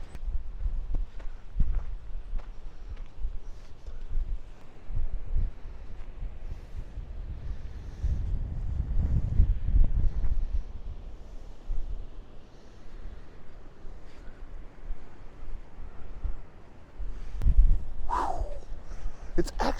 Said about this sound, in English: It's actually getting cold. The wind's kicking, as you can see.